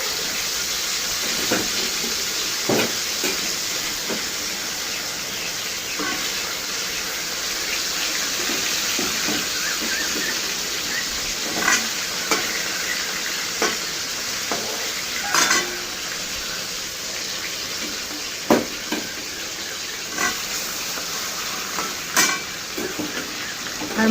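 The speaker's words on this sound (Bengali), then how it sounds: "আমি যতক্ষণ মাছটা ভেজে নিই।" Fish frying in a wok, a steady, close hiss of sizzling oil that runs throughout, broken by occasional small pops and clinks of a utensil, with no talk.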